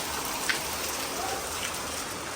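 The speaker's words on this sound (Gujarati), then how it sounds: "વરસાદ વધ્યો પાછો, ભયંકર વધ્યો" Heavy rain pours steadily, a dense even hiss of drops hitting surfaces, with one brief tap near the start.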